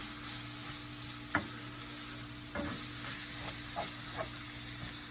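A beef mixture for Jamaican beef patties is stirred in a pan, the spoon scraping now and then through a steady low sizzle of frying, with a few sharper knocks against the pan.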